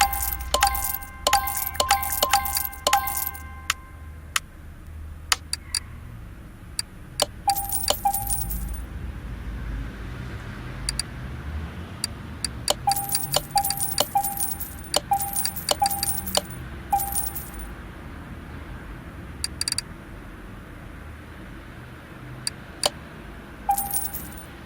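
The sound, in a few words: removing clutch parts in Car Mechanic Simulator 2018 video game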